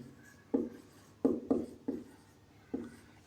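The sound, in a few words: writing on a board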